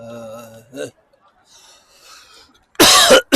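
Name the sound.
coughing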